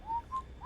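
Someone whistles a short tune, the folk song "She'll Be Coming Round the Mountain", in three clear held notes with small gaps between them, quiet and close with faint background hiss.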